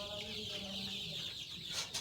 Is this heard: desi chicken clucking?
yes